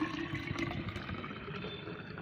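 Plain water pouring and splashing into strained liquid plant fertilizer, a steady continuous trickle close up with no talking.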